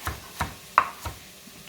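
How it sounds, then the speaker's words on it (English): A knife strikes a cutting board four or five times while chopping carrots for lemon lentil soup, in short evenly spaced knocks, close and fairly quiet with no talking. "I know I might be chopping quickly"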